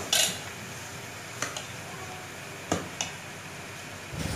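A spoon stirs onion and tomato paste in a cooking pot, giving a few sparse, soft metallic clinks against the pot over a quiet background.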